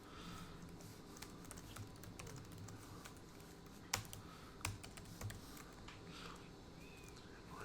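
Faint, fast typing on a computer keyboard while coding, a steady patter of soft key clicks with a few louder taps standing out, alone without speech.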